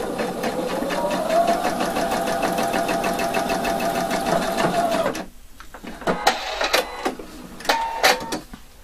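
A sewing machine stitches a double welt pocket in one long, even, rapid run for about five seconds, then stops, leaving sharp clicks and fabric handling sounds.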